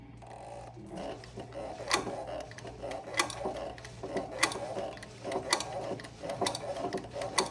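A sewing machine stitches leather for a messenger bag clasp repair, a soft, close mechanical whir with rhythmic ticking that speeds up and slows down in uneven bursts over a low steady hum.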